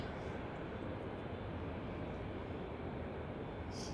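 A Boeing 787-9 Dreamliner airliner in Juneyao Air's Chinese silk ribbon livery roars steadily and faintly from a distance, a continuous broadband engine rush without breaks.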